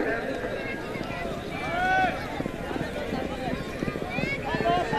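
Horses galloping in a horse race at a celebration fair in Gujranwala, Punjab, their hoofbeats drumming steadily under a continuous announcer's voice and crowd noise, with a possible whinny.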